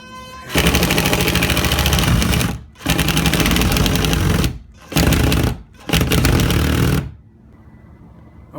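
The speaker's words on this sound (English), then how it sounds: "My hole has been drilled and it's ready for the mount to go up." A power drill driving a screw to bore a pilot hole through sheetrock into a wall stud, loud and close in three long sustained bursts separated by short pauses, fading to quiet room noise at the end.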